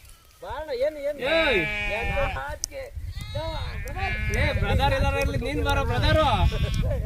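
A large flock of sheep kept by shepherds bleats loudly and repeatedly, many overlapping wavering calls near and far, with people talking underneath.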